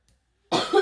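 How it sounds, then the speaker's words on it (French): A person gives a single short, close cough after a near-silent pause. "Et elle tousse."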